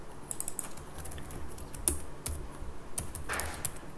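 Computer keyboard typing while writing code, with irregular quiet clicks in short bursts and scattered single key taps, close to the microphone over a faint background hum.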